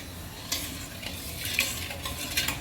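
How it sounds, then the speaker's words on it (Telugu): Sugar stirred in a pan to make gulab jamun syrup, a spoon scraping and clinking against the metal in a few close strokes over a soft constant sizzle. "ఇది చక్కెర కాలకి కరిగే వరకు కలుపుకుంటావాలి కొంచెం"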